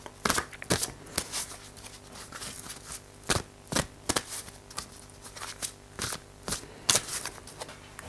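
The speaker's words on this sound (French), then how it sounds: "on commence avec le mélange de cartes comme d'habitude" Tarot cards being shuffled by hand, a series of close, crisp riffling bursts repeating at irregular intervals in an otherwise quiet room.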